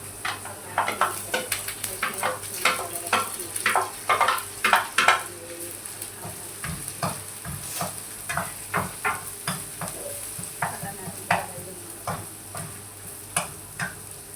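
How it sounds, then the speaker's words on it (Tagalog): Garlic stir-fries in a pan, frying with a steady sizzle while a utensil scrapes and stirs in quick, uneven bursts of clatter close up, with no talking. "So pwede natin ilagay yung bawang."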